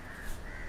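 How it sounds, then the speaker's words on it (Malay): A crow caws in a brief, harsh, raspy call that sits over a dense, noisy background, fairly clear and close. "Dengar burung nampak tak?"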